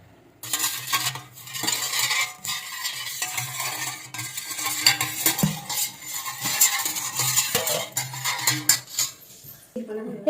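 A spoon stirs tea in a pot with steady metallic scraping and clinking against the sides, running almost continuously with brief pauses, fairly close and loud.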